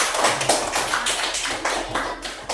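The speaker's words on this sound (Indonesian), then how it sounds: "Kita kasih aplaus dulu." A class of schoolchildren applauds together, a dense run of overlapping hand claps that swells and dips in waves, fairly close and steady without a break.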